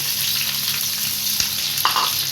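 Tomatoes and drumsticks sauté in hot oil in a pan for a tamarind curry, a steady close sizzle with a couple of soft stirring knocks and no talking.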